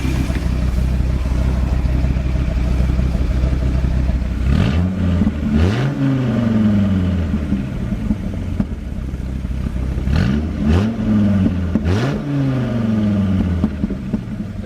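A 2003 Dodge Viper SRT-10 V10 rumbles at a steady, loud idle, then roars through two pairs of sharp throttle blips, each rising and falling back to the deep exhaust burble, with no talking.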